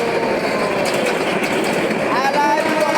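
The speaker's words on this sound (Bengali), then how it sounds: "আর এত ফোর্সে যাচ্ছে গোলা গোলা হয়ে গেছে, দাঁড়ানো যায় না। আর খুবই নতুন ট্রেন, ভিআইপি এবং বড় ট্রেন" A large new Bangladeshi passenger train rushes past at speed, a loud dense roar of wheels and wind with a faint metallic squeal rising near the end.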